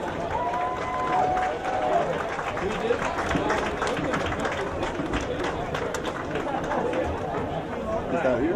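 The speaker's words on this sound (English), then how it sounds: "Let's have a round of applause for our 2021 Homecoming Grand Marshal" A high school homecoming crowd applauds and cheers for the grand marshal: sustained clapping and crowd chatter fill the space, with some voices mixed in.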